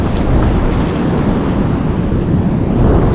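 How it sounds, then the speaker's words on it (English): Rough sea on a Jamaican shore, heard as a loud, steady broadband roar of surf mixed with heavy wind buffeting the microphone, continuous throughout with no voices. "the water is so rough"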